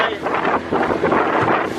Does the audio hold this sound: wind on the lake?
yes